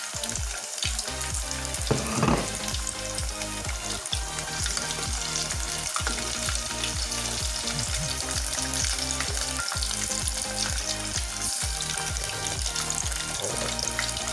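Chicken fries in hot oil with dense, constant sizzling and crackling, close and loud, punctuated by occasional stirring clunks.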